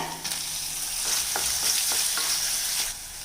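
Onion and tomato sauté in a pan with a loud, continuous close sizzle, broken by a few soft stirring scrapes of a spoon.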